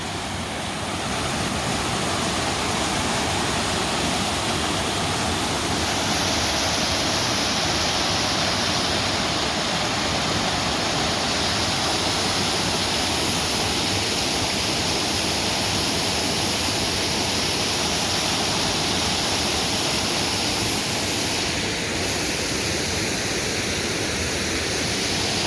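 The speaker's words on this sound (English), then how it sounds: "And I'll shut up and let you listen to the water." A stream flows steadily behind a fence line among growing bamboo, producing a constant loud rushing wash of water that continues alone.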